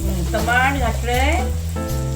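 Tomatoes sizzle in a pan with turmeric and asafoetida while poha is being cooked at home, a steady frying hiss running under continuous close talk.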